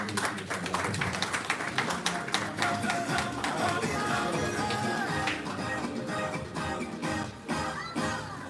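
Applause from the audience at a political press event welcomes a speaker, sharp clapping that is dense at first, then thins into scattered claps and room murmur.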